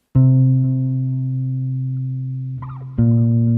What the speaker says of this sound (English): That's the bass.